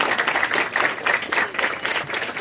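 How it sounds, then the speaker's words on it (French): An audience at a school debate between two classes applauds steadily, a dense wash of clapping that stays loud and even throughout with no break. "je vous demande d'applaudir très fort"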